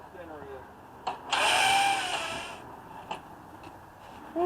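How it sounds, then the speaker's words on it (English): Hammer drill boring a hole during backyard carpentry, heard as a short loud burst of high whining, grinding noise lasting about a second and a half, bracketed by quieter knocks and handling sounds. "I got my drill on hammer drill, see if I can go through this faster"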